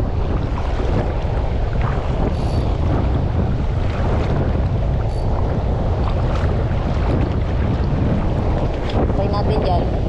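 Strong northeast amihan wind buffets a small fishing boat at sea, a constant low roar and rumble of gusts against the microphone mixed with water noise, loud and unbroken, with someone talking underneath.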